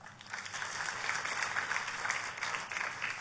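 A church congregation applauds during a sermon, producing a dense, continuous wash of many hands clapping. It sounds fairly soft and somewhat distant, and holds steady for about three seconds without voices on top.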